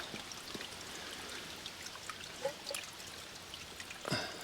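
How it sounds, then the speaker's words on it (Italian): Spring water trickles faintly on a mountain trail below Alpe Rosso at 1240 metres, a soft, steady wash with occasional small drips and splashes, quiet and close. "L'unica vena d'acqua della giornata."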